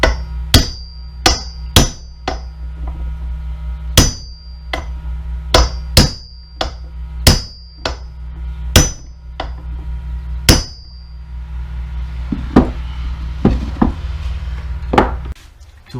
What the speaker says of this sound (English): We'll hit it lightly with the socket.